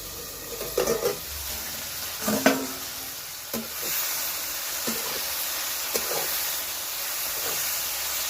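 Okra fries in a pan with a steady, moderate hiss and sizzle, broken by a few soft knocks and stirring sounds.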